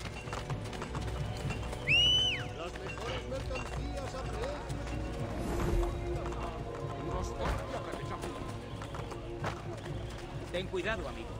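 Horse hooves clip-clop along at a run with a brief whinny in the video game Assassin's Creed Brotherhood, under a busy game soundtrack and someone talking over it.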